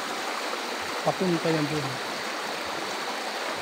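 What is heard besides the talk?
hot spring river flowing at San Benon resort, Irosin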